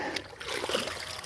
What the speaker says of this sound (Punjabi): ਫਲਾਂ ਨੂੰ ਪਾਣੀ ਪੈ ਰਿਹਾ